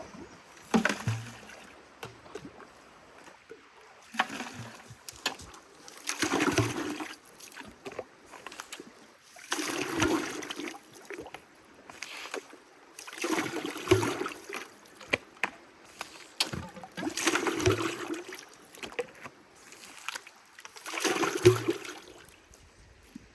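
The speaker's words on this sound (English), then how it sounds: "It draws really long, and it sucks up an awful lot of material." A suction dredge in a Wisconsin stream pulling material through its hose, repeated surging gurgles and sloshing washes of water every few seconds, close and moderately loud.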